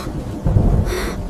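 Loud thunder in a storm, a deep rumbling crack that swells partway through and rolls on with a hiss of rain, no voices.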